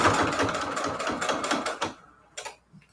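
A six-year-old sewing machine stitches fabric for patchwork craft-room banners in a fast, steady mechanical rattle for about two seconds, close and fairly loud, then stops with a couple of brief clicks after.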